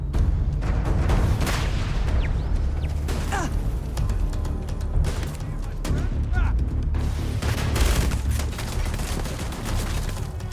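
Rapid automatic gunfire from the video game Starfield, loud repeated bursts and booms across the whole stretch, with game sound effects layered underneath.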